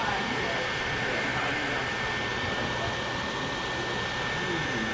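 A heat gun blows a steady, loud whooshing roar of hot air while shrinking the covering on a model airplane, constant and unbroken throughout.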